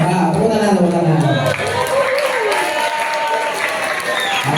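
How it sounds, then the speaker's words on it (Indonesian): Students at a general lecture in an Islamic boarding school break into a burst of clapping that runs throughout at fairly loud level, with voices talking over it at the start. "Tepuk tangan."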